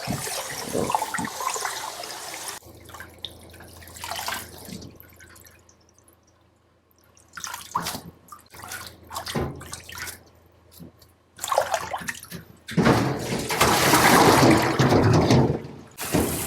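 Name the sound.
daylily greens rinsed by shaking in water by hand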